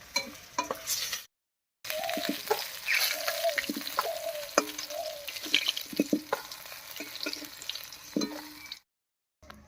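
Katla fish frying in hot oil gives a steady, close sizzle with intermittent crackles and spatters, broken by a couple of brief silent gaps.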